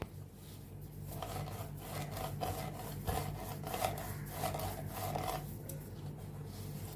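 Stuffed dough for bhujia being rolled out with a rolling pin in a home kitchen, giving repeated soft rubbing, rasping strokes in a steady rhythm over a low background hum, with no voices.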